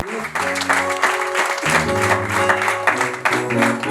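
An audience claps steadily at a church gathering while sustained music plays, the clapping loud and continuous throughout.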